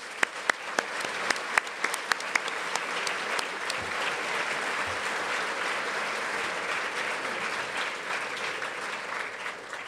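Steady audience applause welcoming two veterans to a panel, a dense wash of clapping that holds evenly throughout with a few sharper individual claps standing out near the start.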